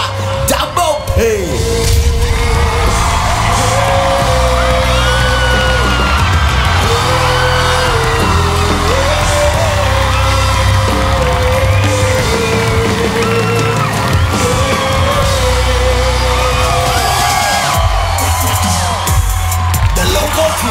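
A concert crowd at a Thai rap competition show yells and chants loudly over thumping music, a continuous dense wall of voices with a rapper's vocals running on top.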